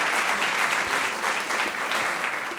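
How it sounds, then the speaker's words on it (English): Audience applause for a school quiz team at a televised quiz competition: a dense, steady burst of many hands clapping at once, sustained and fairly loud for the whole stretch with no talking over it. "A round of applause for them, please."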